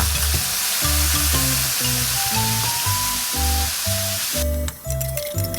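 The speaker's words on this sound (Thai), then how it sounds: "ผัดไปเรื่อยๆ จนเลือดหมูและเต้าหู้เริ่มเกรียม" Pork blood and tofu stir-frying in a pan: a constant loud hissing sizzle that runs under rhythmic background music throughout.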